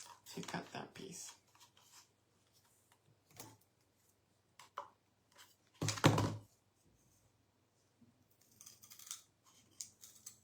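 Scissors snip through a piece of craft material, likely twine or a craft stick, for a wood-style cross built from paper rolls and craft sticks; a few short, close cutting sounds come in separate bursts against a quiet room.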